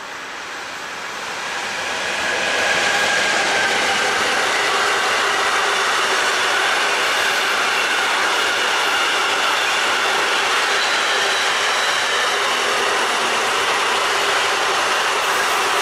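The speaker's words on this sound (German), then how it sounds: "ICE 1 Richtung Würzburg." An ICE 1 high-speed train heading toward Würzburg on the new Spessart ramp near Laufach rushes past with a loud, steady roar that swells over the first two seconds and then holds without pause.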